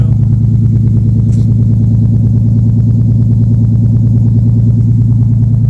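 A car engine on a cold start settles into a steady, rumbling idle with an even, pulsing exhaust beat, close and loud throughout with no talk.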